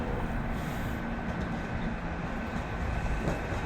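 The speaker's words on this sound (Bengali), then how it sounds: "এই যে দেখেন ট্রেন চলে আসতেছে।" A commuter train runs through Stamford station in Connecticut on the snow-covered line to New York's Grand Central, giving a steady, loud rumble throughout with no clear clatter peaks.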